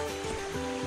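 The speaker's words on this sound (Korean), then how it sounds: "물 흐르고 있어요." A forest stream flowing beside a trail at a woodland campsite near a footbridge gives a steady, close rushing wash of water with no talk.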